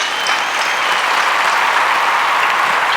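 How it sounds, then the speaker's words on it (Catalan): Loud, sustained applause from a festival audience at a comic convention in Martorell, hundreds of hands clapping evenly and continuously, close and full, with no speech over it. "Més un aplaudiment més fort encara."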